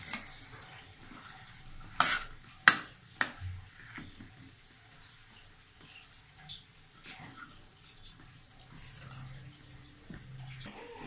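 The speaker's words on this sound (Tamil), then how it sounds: "அப்படியே நல்லா வதக்கணும்." Dosa masala being stirred and sautéed in a pan with no added water, a soft scraping sizzle with a few sharp utensil knocks against the pan, close and moderately quiet, no talk.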